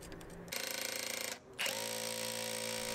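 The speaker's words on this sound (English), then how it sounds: "I used my SDS drill to drill the holes" An SDS drill bores holes for gate hinge brackets, its motor whining steadily and loudly with a brief pause and a restart partway through, up close and with no talking.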